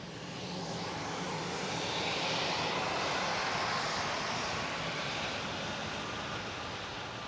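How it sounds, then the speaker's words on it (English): A jet airplane takes off from an airport beside a Florida rail-trail, its broad roar swelling to a peak and then slowly fading, distant but dominant, with no talk. "there's a jet taking off right now"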